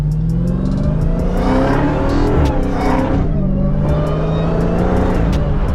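A Dodge car's loud engine note rises and falls close up, with sharp crackling exhaust pops scattered throughout over the steady exhaust drone.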